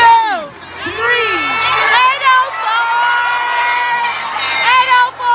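A crowd at a VSU welcome week event screams out their area code on cue, a loud, dense mass of overlapping shouts, whoops and yells sustained for several seconds.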